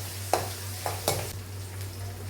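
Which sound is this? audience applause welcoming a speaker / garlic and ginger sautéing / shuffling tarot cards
garlic and ginger sautéing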